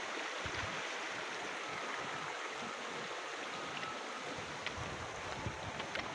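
A riverside stream flows with a constant broadband rush of water, steady and fairly loud from start to finish, with faint wind and small splashes and no voices.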